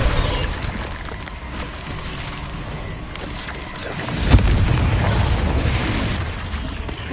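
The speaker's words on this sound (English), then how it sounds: "Bombarda." A Bombarda spell blast in a Harry Potter game on PS4 booms out once, a loud close explosive hit around the middle, set in continuous rumbling game noise.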